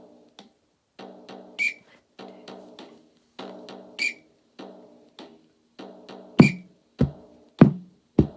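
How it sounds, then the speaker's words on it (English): Short sharp whistle blasts mark the first beat of each four bars over a steady pattern of surdo drum hits, with a louder bass thump near the end. "The whistle marks the first beat of the 4 bars."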